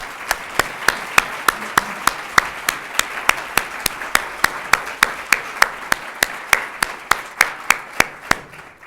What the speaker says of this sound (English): I think we owe Ambassador McDonald a very, very robust round of applause